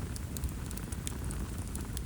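A small campfire burns on a forest floor, its steady low roar broken by faint, scattered crackles and pops, with no voices.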